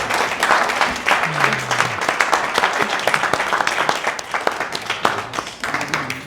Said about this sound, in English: How about a rising vote of thanks for Mr. Roger Thomas?